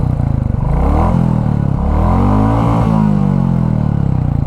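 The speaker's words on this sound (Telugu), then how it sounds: "ఒకసారి ఎగ్జాస్ట్ సౌండ్ అయితే వినండి" A 2024 Royal Enfield Classic 350 with its air-cooled two-valve single idles and revs nearby, a loud, thumping exhaust note that swells and settles again, with no talk.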